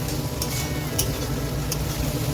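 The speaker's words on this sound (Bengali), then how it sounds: "পটলগুলো দিয়ে দিলাম এবার পটল দিয়েও এটাকে ভালো করে কষিয়ে নেব" Pointed gourd (potol) sautéing with spices in a pan, a steady close sizzle of frying that runs unbroken from start to finish, with a few sharp stirring scrapes and no talk.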